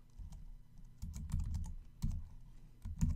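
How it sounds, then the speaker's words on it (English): Keys clatter on a computer keyboard in short bursts of quick taps, close and moderately quiet, with brief pauses between runs. "Type in the invoice number"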